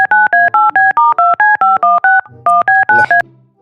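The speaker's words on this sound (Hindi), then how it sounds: "एक काम कर, उस यतीन के पास फोन लगा।" Telephone number being dialed on a keypad, a rapid series of about fourteen loud DTMF beeps in an even rhythm, close and clear, with a brief pause midway.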